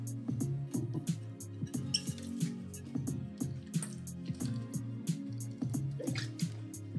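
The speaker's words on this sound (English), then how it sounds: "I just had to take a sip of water" Someone sips water close to the microphone, with small wet slurps, swallows and soft squishy mouth sounds repeating in an uneven rhythm, and no talking.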